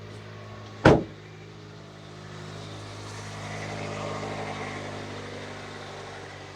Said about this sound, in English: So once you're done, start the vehicle.